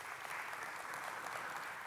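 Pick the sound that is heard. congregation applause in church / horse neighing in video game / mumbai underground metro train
congregation applause in church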